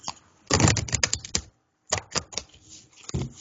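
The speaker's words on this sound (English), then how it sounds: "let me get a big shuffle." A deck of playing cards being shuffled in two bursts of rapid, crisp riffling clicks, separated by a short pause, close and fairly loud with no talking.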